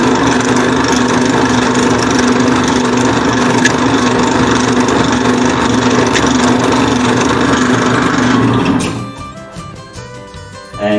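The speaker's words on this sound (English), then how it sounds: "Now I start drilling." Loud, steady machine hum of a drill press running continuously while drilling into wood, dropping off abruptly near the end as the motor winds down.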